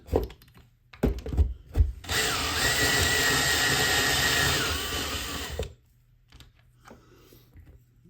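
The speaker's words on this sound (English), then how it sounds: "I'll go and drill from underneath" A power drill whirs steadily for several seconds, close and loud, after a few short bursts, drilling up through wood from underneath a model railway layout; quieter rustling and handling sounds follow.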